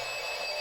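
Alarm going off indoors, a continuous shrill electronic ringing tone held steady and fairly loud throughout the brief moment.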